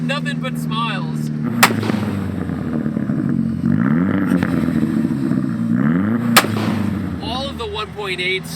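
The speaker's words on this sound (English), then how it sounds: "It pops, it crackles," MK4 VW Golf GTI 1.8 turbo burbling through its exhaust, punctuated by a couple of sharp, loud pops and crackles over the engine drone.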